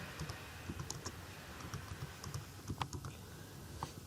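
Someone types a couple of words on a computer keyboard while writing a Python program. The keystrokes are quick and fairly faint, a light irregular clicking with no voice.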